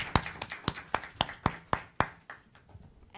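A handful of people clapping for a panel at an education and climate action session, sparse, distinct claps in a loose rhythm that thin out and fade toward the end.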